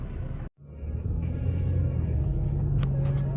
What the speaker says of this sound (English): So this is driving in some really icy roads